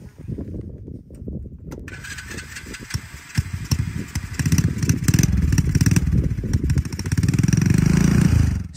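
An Amazon mini Jeep ride-on vehicle in the Colorado backcountry, its small engine catching after a couple of seconds of quiet, then running with a clattering putter that grows steadily louder.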